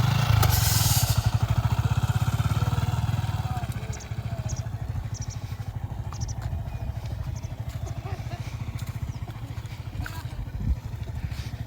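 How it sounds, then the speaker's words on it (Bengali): A motorcycle is ridden across a sandbank in the Ganges, its engine thumping steadily nearby, louder at first and then easing to a lower, even putter with wind and occasional voices. "আমি একটু বাইকটা চালিয়ে যাই"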